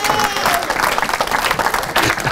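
Church congregation applauding, a dense burst of many hands clapping steadily throughout, full and close with no break.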